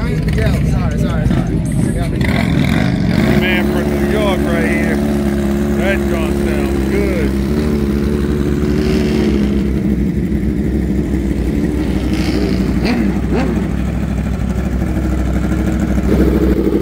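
Motorcycles revving and pulling away from a bike night at a Cycle Gear store, engines rising and falling in pitch close by under loud ongoing crowd chatter.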